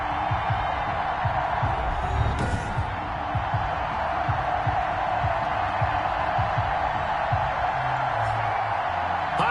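NFL stadium crowd before a New Orleans Saints vs Brooklyn game, a dense, steady roar of many voices with scattered whoops, sustained and distant.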